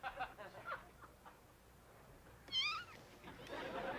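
A cat lets out several short, wavering meows near the start, then a sharper, louder meow midway, close to the microphone in a room with some background rustling and no talking.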